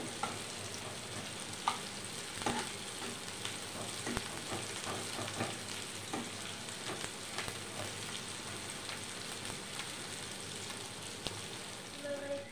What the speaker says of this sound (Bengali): পেঁয়াজগুলো একটু লাল লাল বেরেস্তার মতন হয়ে আসবে যখন, তখন আমি মশলাটা দেব।